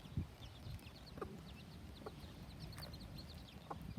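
New backyard chickens in a pen with food and water cluck softly and sporadically. The sounds are close but quiet, with no talking.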